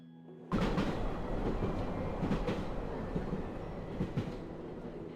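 A steady rumble and clickety-clack of a train ride in the Cookie Run: Kingdom video game starts abruptly and runs on continuously, fairly loud and close, with no talking.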